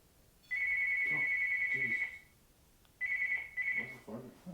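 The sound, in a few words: phone ringing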